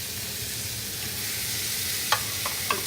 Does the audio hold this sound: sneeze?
no